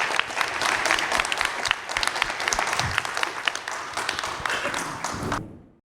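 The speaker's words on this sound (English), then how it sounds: "Can we give everyone a round of applause," An audience at the Campervan Campout gathering gives a round of applause, dense, sustained clapping from many hands that holds steady, then tapers off at the end.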